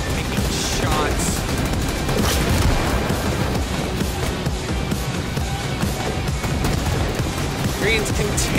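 Video game battle between plastic army men, riflemen firing in dense rapid bursts that mix into a continuous loud fusillade with crashing impacts, steady throughout, with possible voices underneath.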